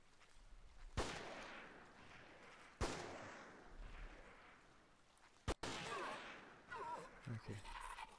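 Gunshots crack out from the PS2 video game Forbidden Siren, with three sharp, widely spaced single reports over a low game ambience and some quiet activity near the end.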